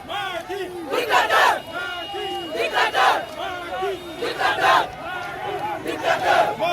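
A large crowd of protesters marches in Ziguinchor, chanting and shouting in loud rhythmic bursts of many voices, close and energetic.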